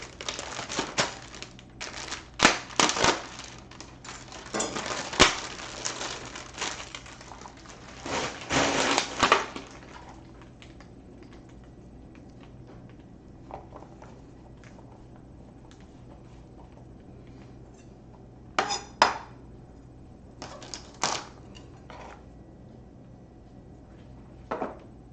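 Asparagus trimmed with a kitchen knife on a cutting board: bursts of crisp snapping and chopping cuts, loud clusters early, then sparse isolated cuts separated by quiet stretches.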